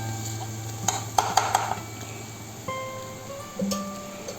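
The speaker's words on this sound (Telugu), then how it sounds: "ఇలా వేసుకున్న వాటిని బాగా ఫ్రై చేసుకుందాం." Spoon stirring and frying salted ingredients in a pan for Telugu-style fish curry, with a few sharp metallic clinks against the pot over a low, steady sizzle; no voices.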